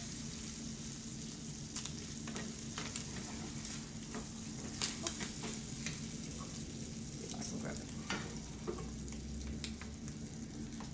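Bacon fries in a hot pan, sizzling and crackling steadily throughout with frequent small pops, close and fairly even in level, and no talking.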